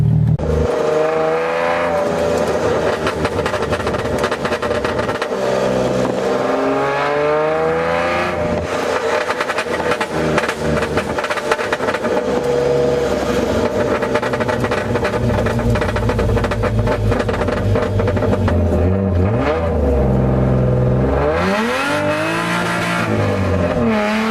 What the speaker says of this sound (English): So I'm gonna test drive this now and see what happens.